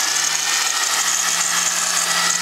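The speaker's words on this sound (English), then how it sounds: "What I want you to do is actually take this and grind a little area there." A grinder with a number 36 grinding wheel works on a rubber conveyor belt during a repair, giving a steady, loud, high-pitched whine with constant abrasive hiss throughout and no pauses.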